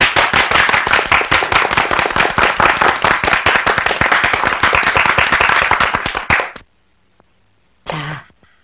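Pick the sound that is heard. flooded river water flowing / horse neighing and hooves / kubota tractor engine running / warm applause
warm applause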